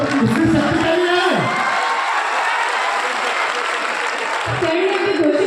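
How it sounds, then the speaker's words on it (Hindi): Loud, dense applause from a large crowd at a live event in Bettiah, sustained and even throughout, with a voice briefly heard at the start and again near the end. "जोरदार तालियां पहले तो"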